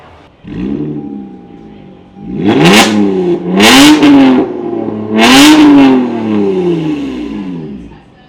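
A powerful NASCAR Cup race car engine revs loudly up close, several sharp high-pitched blips rising and falling over a rough idle.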